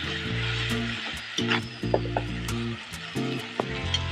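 Sliced onions sautéing while spiced water with turmeric, cumin, coriander, chili and salt is added, giving a steady sizzle broken by repeated scraping stirs and clacks from the pan.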